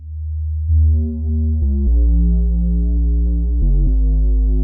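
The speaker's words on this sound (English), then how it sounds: "It's mainly this kind of bass that is a sustained bass." A deep, sustained progressive house synth bass drone holds steady, shifting pitch a few times with buzzy upper harmonics and no other sounds.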